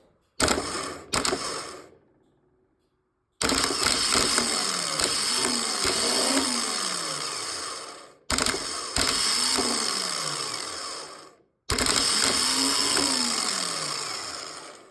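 A starter motor spins up in repeated short bursts with a whirring, ratcheting mechanical whine, its Bendix gear flinging out each time; loud and close, separated by brief silences, with no talking.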